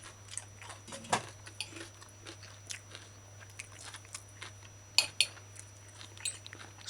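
Mala chicken being eaten up close, with soft chewing and scattered crisp bites, plus occasional clinks of cutlery against a dish; no talking.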